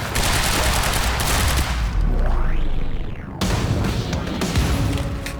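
Dense, loud bursts of automatic gunfire fill a Quantum Break firefight, with a rising whoosh in the middle, a brief drop, then the shooting resumes in heavy rapid volleys.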